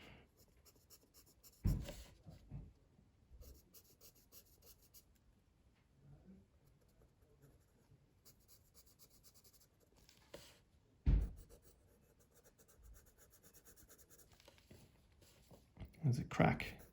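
A Blackwing pencil shades on paper during a sketch, producing soft continuous scratchy strokes, close and quiet, with a few louder bumps and handling noises.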